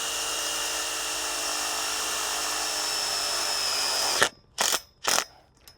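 A power drill runs steadily, driving a self-tapping screw through a metal tube strap on a caterpillar tunnel hoop, then stops and gives three short bursts to seat it.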